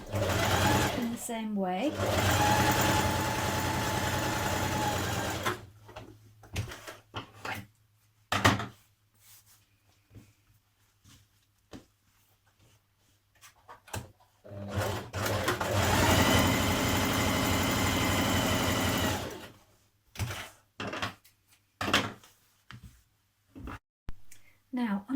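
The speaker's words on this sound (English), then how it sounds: "Stay stitch the upper edge of the pocket lining" Sewing machine stay stitching the upper edge of a trouser pocket lining, running in two long steady bursts separated by a stretch of speech and handling noises.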